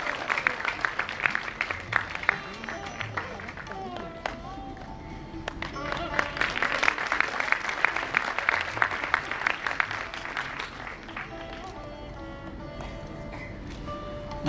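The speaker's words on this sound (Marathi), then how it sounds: "तरी सुद्धा सतत टाळ्या व्हायला पाहिजे" Sustained applause from the audience at the Kokan Sanman award ceremony as an award is presented, steady crowd clapping with scattered sharp claps and some voices underneath.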